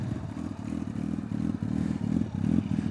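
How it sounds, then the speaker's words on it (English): A deep Kawasaki ZX-12R motorcycle engine runs close by, its low throbbing rumble swelling with a few light revs and mechanical clatter. "It's deep. You can hear it. It's a deep engine."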